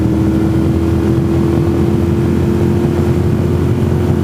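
A steady, loud engine drone from a motorcycle with a 41-tooth rear sprocket as the throttle is rolled on, holding a constant hum throughout with no clear rise in pitch.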